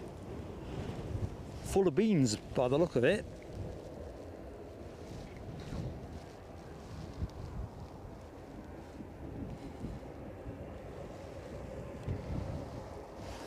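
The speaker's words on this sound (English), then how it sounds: "And the wind is back from its lunch break." Wind buffeting a microphone outdoors at an Edinburgh plane-spotting spot, a steady low rumbling rush throughout, with someone speaking briefly over it.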